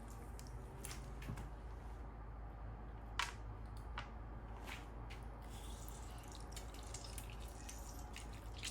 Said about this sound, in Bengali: বড় সাইজের একটা লেবু নিয়ে সেই লেবুটা চিপে আমি দিয়ে দিলাম